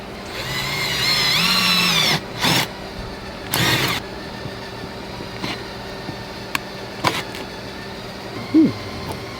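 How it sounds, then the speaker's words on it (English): A power drill fitted with a 5/8 inch bit runs in a couple of loud sustained whines, cutting off between bursts, followed by short clunks and knocks, during a backup camera install on a Jayco RV. "I'm going to use a 5/8 inch drill bit just because that's what the instructions recommend."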